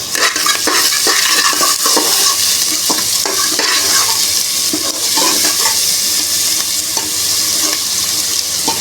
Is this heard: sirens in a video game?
no